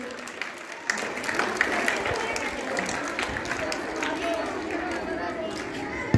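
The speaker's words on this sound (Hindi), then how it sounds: "नीतू कुमारी के लिए जोरदार ताली होना चाहिए।" An audience in a general knowledge quiz session applauds a correct answer, a lively patter of claps mixed with crowd chatter and voices, moderately loud throughout.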